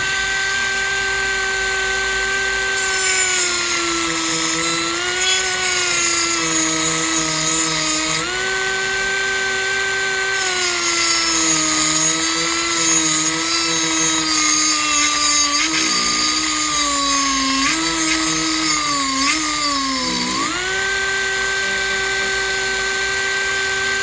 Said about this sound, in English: just for a better direction for the Dremel.